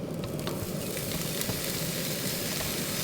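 Thick-cut bacon sizzles and crackles steadily in a hot frying pan, a loud, close, continuous hiss with scattered pops and no talking.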